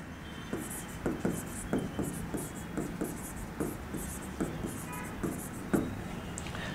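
A marker writes on a board during a lecture on Madhya Pradesh administration. Close, scratchy strokes and short squeaks come in an irregular rhythm, fairly faint over a quiet room.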